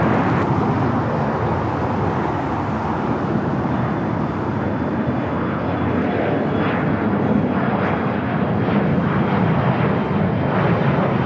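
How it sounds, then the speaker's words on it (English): Iberia Airbus A330-200 arriving from Madrid and landing on the north side at LAX at night, a loud, sustained jet roar that swells and rumbles steadily throughout with no speech. "Iberia, the A330-200 coming in from Madrid, also landing there on the north side, heading to the gates."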